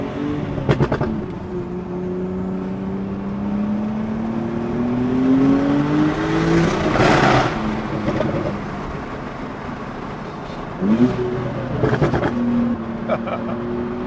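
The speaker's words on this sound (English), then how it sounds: "This car has a twin turbo flat six." A 2018 Porsche 911 T twin-turbo flat-six engine revs up and down on twisty back roads, rising in pitch through the gears with a throaty growl, passing close and then fading, with brief voices in between.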